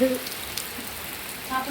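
Steady rain falls in a soft, continuous hiss that fills the whole stretch, with a few faint tonal blips drifting over it.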